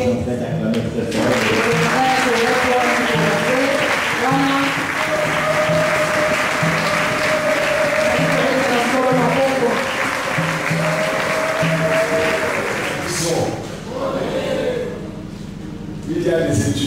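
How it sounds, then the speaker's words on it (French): Church audience applauding loudly and steadily, dense hand-clapping sustained for about thirteen seconds before tapering off, with voices and music mixed in underneath. "Pendant ce temps, nous sommes en train d'acclamer très fort."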